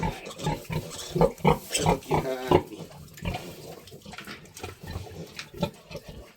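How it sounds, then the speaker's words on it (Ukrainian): Mangalica pigs with piglets on a Chernihiv-region farm, grunting and squealing in close, repeated bursts throughout, with a few overlapping calls in the middle. "Ось одна із них, ви можете бачити. це перша наша свинка"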